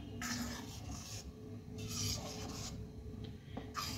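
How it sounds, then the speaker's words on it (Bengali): Dudh puli pitha dumplings being gently stirred in a pot of milk, soft scraping and sloshing strokes close by, quiet and continuous. "এবার হালকাভাবে আমি এটাকে নাড়িয়ে দিলাম"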